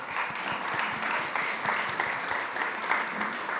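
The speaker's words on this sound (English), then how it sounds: "Give them a round of applause." Steady clapping from an audience, a dense sustained wash of applause throughout, fairly loud with no speech on top.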